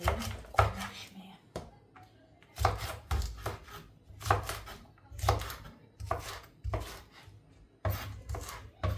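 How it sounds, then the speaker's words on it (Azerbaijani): Vegetables chopped quickly with a knife on a board in a home kitchen, a steady series of sharp, close, loud chops with short pauses between bursts, no talking. "Ona görə belə tez-tez doğrayım, qoyum pişməyə."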